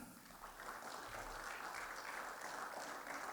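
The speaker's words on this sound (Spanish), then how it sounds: "Denle una ofrenda de palmas al Señor" A church congregation applauds during a Spanish-language service, a steady, dense wash of clapping that fills the room evenly from start to finish with no voices rising above it.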